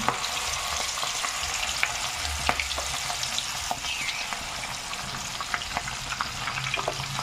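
Shrimp fritter batter with shrimp on top frying in oil in a mould, a continuous bright sizzle with scattered small pops and crackles, close and steady throughout.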